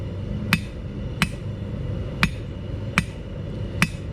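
Five sharp, ringing hammer blows land on hot metal being tapered on an anvil, spaced evenly about every three-quarters of a second, each bright and close over a low steady hum.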